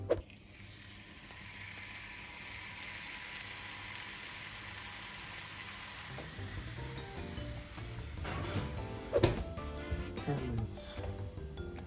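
Flank steak sizzles steadily in a hot pan, a soft continuous hiss that runs unbroken, then gives way to clattering and scraping kitchen noises near the end.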